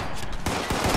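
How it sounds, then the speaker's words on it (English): Automatic assault rifle fire in Fallout 76, a short rapid burst of several sharp shots starting partway in, loud and close over a noisy game background. "This automatic assault rifle does not do good for me"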